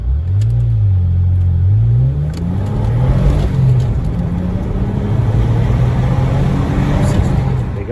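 A Vauxhall Insignia VXR engine revs hard through several gear changes, the pitch climbing, dropping and climbing again as the car accelerates loudly up close.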